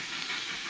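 Steam train arriving as a radio drama sound effect, a sustained hissing rush of steam that swells briefly, moderately loud with no voices.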